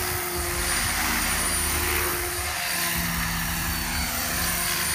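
A radio-controlled 500-size helicopter flies at about 60% throttle, its rotor and motor making a steady, loud whine and buzz that holds even throughout with no voices.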